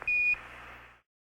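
Apollo 11 lunar module program alarm tone during the Moon landing descent: a single steady electronic beep, a short sharp onset followed by a sustained tone that cuts off after about one second, heard alone with no talk.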